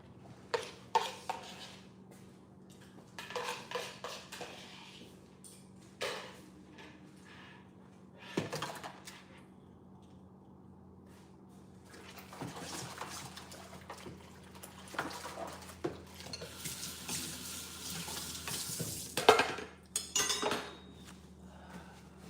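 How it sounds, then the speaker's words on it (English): Contents of a bowl being dumped out indoors: a scattered run of clinks, knocks and splashy clatter with a louder burst near the end, over a steady low hum. "Let me dump this bowl."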